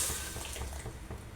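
Hot tempering poured into a vessel of drumstick sambar gives a short burst of hissing sizzle, loudest at the moment it hits and then settling into a steady crackle, with no voices.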